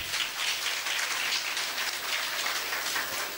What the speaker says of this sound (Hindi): और एक बार जोरदार तालियां हो जाए आप सबके लिए.